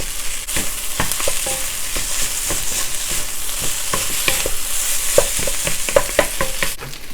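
Ham kimchi fried rice sizzles steadily in a hot pan while a utensil scrapes and stirs it in quick, irregular strokes, with the rice on the bottom crisping.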